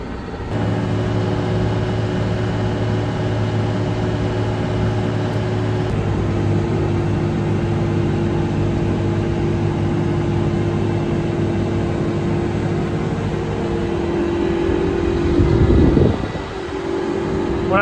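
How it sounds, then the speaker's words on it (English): A tractor engine drones steadily while driving across farm fields, a loud, even mechanical hum with a constant low tone that shifts slightly in pitch near the end. "It's a mean tractor, very mean tractor"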